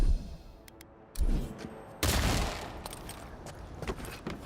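Gunfire from a firearm in the fantasy game Avowed: a few sharp reports with rumbling tails, two heavier blasts near the start and midway, then scattered smaller pops fading out.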